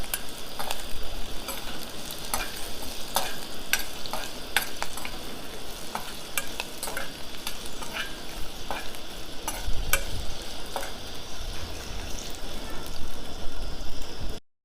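Cumin seeds and green chillies fry in a hot pan, a steady close sizzle with crackling pops and occasional stirring scrapes, no voices.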